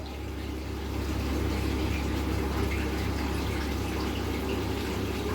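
Water slowly poured into a container holding axolotl hatchlings, a continuous gentle splashing and trickling over a low steady hum, with no pauses.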